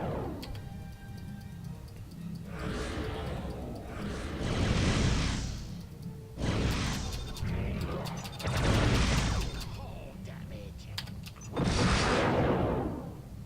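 Missile launches in the space combat game Starfleet Command: Orion Pirates, four or five loud whooshing bursts a few seconds apart over a ticking, mechanical background.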